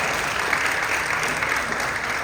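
An audience claps for a speaker at a church gathering, a dense, even burst of applause from many hands filling the room throughout.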